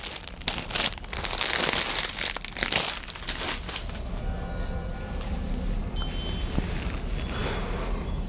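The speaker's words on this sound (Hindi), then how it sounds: "इस टाइप की थैली आएगी प्लास्टिक आपको उसमें मिल जाएगा तो मैं आइए इसको ओपन करके दिखाती हूँ" Plastic packing bag around a daily-wear saree crinkling and rustling as it is opened by hand, loud close crackles at first that settle into softer handling noise.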